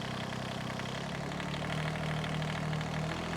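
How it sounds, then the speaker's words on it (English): A mini excavator fitted with a brush cutter runs with a steady, close engine drone that climbs slightly in pitch and loudness partway through as the revs come up, with no talking. "Okay, so I'm going to bring the revs up a little bit."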